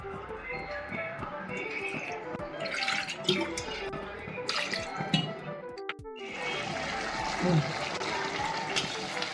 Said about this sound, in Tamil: ஊற்றலாம் தண்ணி.